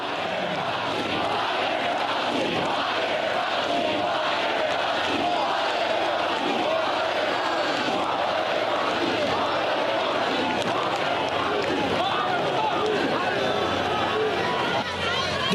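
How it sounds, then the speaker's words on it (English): A large crowd at a Trump rally in Florida chants together in a dense, continuous roar of voices that stays loud and steady throughout. "The crowd was chanting, "Fire Fauci.""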